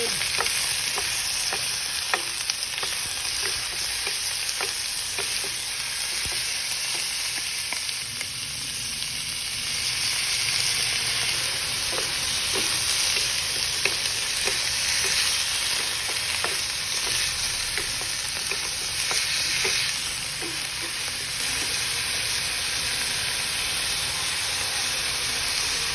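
Pork sizzles and stir-fries in a pan with cabbage, onions and spring onions, a loud steady hiss with faint scraping and clicks of stirring throughout, no voices.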